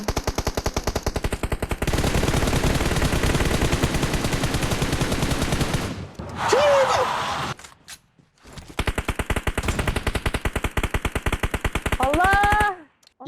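Rapid automatic gunfire from the battle game PUBG Mobile, loud sustained bursts with brief gaps and a quiet break midway, then more long streams of shots.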